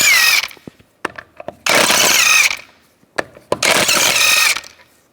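An impact wrench spins lug bolts off the wheel of a 2007-2010 Mini Cooper, firing in two loud, close bursts of about a second each, with short clanks and taps between them.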